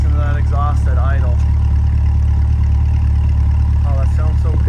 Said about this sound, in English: And listen to that exhaust at idle.